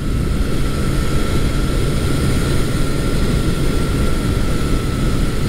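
A Honda CB750 motorcycle engine, a little cold, runs at a steady idle, a loud continuous rumble with wind buffeting close by and no talking.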